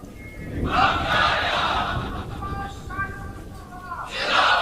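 A large crowd at a religious gathering marking Youm al-Badr chants slogans in unison, loud, roaring swells of many voices that rise at the start, ease off briefly, then surge again at the end.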